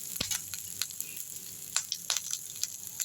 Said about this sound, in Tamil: எல்லாத்தையும் போட்டு நல்லா வதக்கிடலாம்.